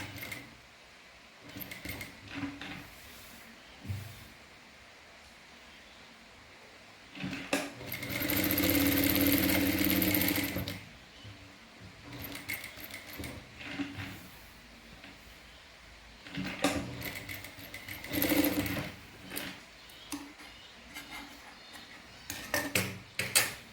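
A sewing machine stitches formal pants along a marked line in a short burst of a couple of seconds, followed by a second, briefer run. Quieter handling clatter fills the gaps, with no talk.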